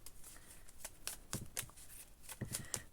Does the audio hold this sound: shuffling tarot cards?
yes